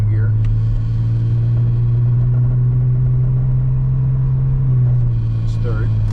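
GS Turbo car engine pulling steadily through the gears with a transmission fault, a loud continuous low drone that shifts pitch partway through as it accelerates, heard from inside the cabin.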